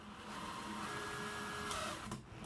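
A small drill with a 1/16 inch bit bores screw holes for hinges in wood for a solitary bee hotel, producing a faint, steady whine lasting a couple of seconds.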